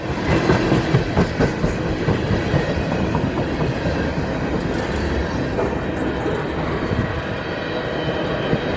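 A train rolls past on the rails close by, a loud, sustained rumble with rhythmic clicking of the wheels over the track joints.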